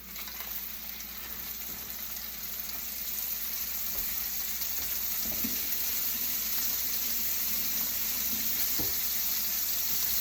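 A single steak sizzles and fries steadily in a pan, a constant broadband hiss that grows slightly louder after a few seconds, with faint clinks and shuffles at the stovetop and no talking.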